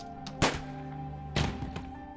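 A body drops to the ground with a dull thud in the visual novel Angels With Scaly Wings; two soft, heavy impacts land over a steady low musical drone.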